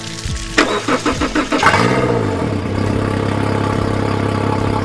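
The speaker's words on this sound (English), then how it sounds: "I'll get my trusty assistant to give the engine a quick start" An outboard boat engine cranks with a few rhythmic chugs, catches, and settles into a steady, close idle.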